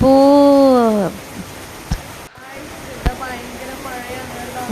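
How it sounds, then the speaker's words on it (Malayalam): Heavy rain pours in a steady, dense broadband rush that stays loud throughout, with a voice heard briefly near the start. "മഴ തന്നെ പറഞ്ഞാൽ ഇതാ മഴ"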